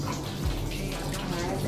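Tap water runs steadily during a children's natural-hair wash at home, a continuous close splashing rush that fills the short stretch without pause.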